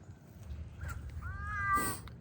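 A house cat named Norman gives a short, rising meow followed by a longer drawn-out one, close and clear against quiet outdoor background on a small farm.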